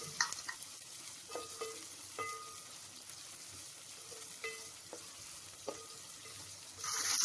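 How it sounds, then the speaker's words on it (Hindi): Cumin seeds tempering in hot oil for a dhaba-style chana dal: a quiet, steady sizzle with soft crackles, light stirring clinks and scrapes at irregular moments, and a louder burst of sizzling at the end, no talking. "और जैसे ही ऑयल गर्म हुआ हमने इसमें जीरे का तड़का लगा दिया। जीरा जैसे ही कड़कड़ाएगा"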